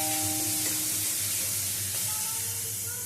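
Onion and garlic paste frying in hot oil in a home kitchen, a steady close sizzle with light stirring scrapes running throughout, no voices.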